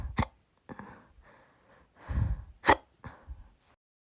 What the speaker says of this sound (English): Uh-oh, the hiccups.